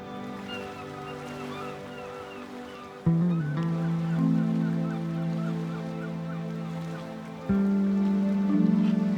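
Water birds, including Andean flamingos, call at Lake Saracocha in the Peruvian highlands, a dense honking chorus that carries steadily throughout, with louder goose-like honks swelling in over a soft wet background.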